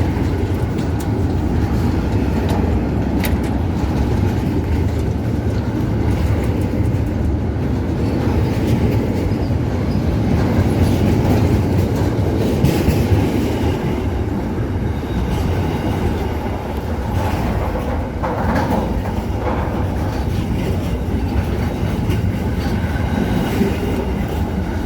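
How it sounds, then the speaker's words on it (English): A long freight train rolls steadily past on the rails at an Australian railway between Adelaide and Perth, a continuous loud rumble of wagons and wheels with faint rhythmic clatter, no talk. "It's funny how freight trains just keep going"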